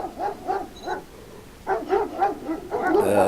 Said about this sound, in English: Dogs from Black Ops 2 as well.